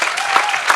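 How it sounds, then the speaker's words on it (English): An audience at a panel discussion on sustainability education claps steadily in a dense, continuous round of applause, even and moderately loud throughout the short burst. "If everyone could give them a big round of applause,"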